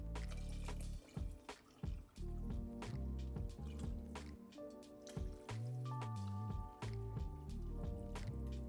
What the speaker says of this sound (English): Then to the pot, I'm gonna add in about 3 quarts of water.